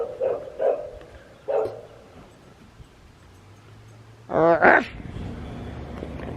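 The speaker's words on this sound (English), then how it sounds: "This dog that's just been barking all morning." A dog barks a few times: two or three short, muffled woofs early on, then a louder, sharper pair of barks near the end against quiet room noise.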